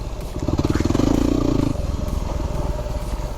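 A Yamaha WR250R motorcycle rumbles loudly and close on a ride out to Gunn Point, its engine revving up with a pulsing throb and then easing into a steady run.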